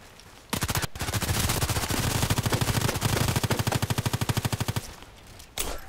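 Rapid automatic fire from a Glock 18 pistol in the online shooter Contract Wars, a loud sustained burst of closely spaced shots running for several seconds, then a short pause and a final shot.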